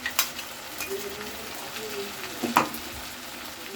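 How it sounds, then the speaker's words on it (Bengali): Aubergine, potato and hilsa fish being stirred with onion in oil in a frying pan, producing soft sizzling with a few scraping clinks of the spoon, fairly quiet and close. "দিয়ে নাড়িয়ে নিচ্ছি। এটা বেগুন আলু আর ইলিশ মাছ হবে। খুব ভালো করে নাড়িয়ে নিচ্ছি।"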